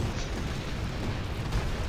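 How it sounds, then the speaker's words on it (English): Inferno cannon firestorm explosions in the Rise of the Reds strategy game: a dense, continuous roar of fiery blasts and rumbling booms, loud and sustained without clear breaks. "inferno cannons and their firestorms"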